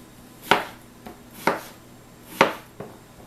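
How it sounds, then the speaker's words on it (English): A knife chops squash or similar vegetables into chunks on a cutting board, four crisp separate thunks at an uneven, unhurried pace, close and clear with no talk. "And then I'm going to cut this up into some chunks."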